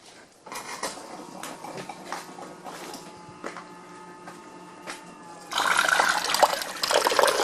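A central heating pump pushes water up an open expansion pipe toward a tank, giving a steady trickling and splashing of liquid that surges into a louder, fuller rush over the final couple of seconds.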